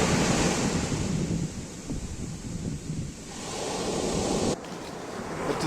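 Atlantic surf at a beach in Portugal rolls and hisses steadily, a broad continuous wash with wind buffeting the microphone and a brief drop in level near the end.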